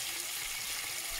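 Broccoli and tuna fry in oil over low heat, giving a steady, soft, even hiss of sizzling with no voices.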